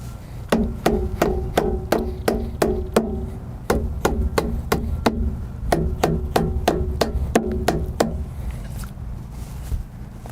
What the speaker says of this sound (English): Let me show you how good of a hammer that the Glock makes.